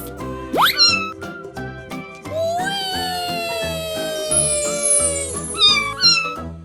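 Cat meowing in a cute cartoonish way, several distinct rising meows over a bouncy plucked musical backing, loud and close, including one long drawn-out meow in the middle.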